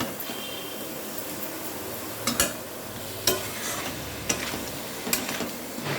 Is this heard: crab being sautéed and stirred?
yes